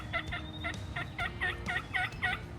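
Wild turkeys gobble repeatedly at dawn during a spring hunt in Delmarva, rapid rattling calls coming in quick bursts at moderate distance over a low outdoor background.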